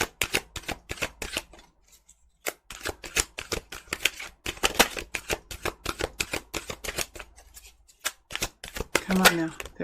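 Tarot cards are shuffled in rapid, crisp riffling bursts close up, with brief pauses between runs.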